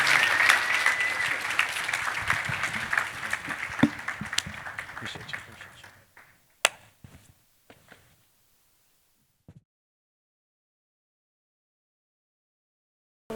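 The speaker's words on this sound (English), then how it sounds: "Let's give the 2 guests a round of applause" A crowd applauds two guests at a university anniversary gala, the clapping full at first, then thinning and fading out into a few scattered claps and near silence.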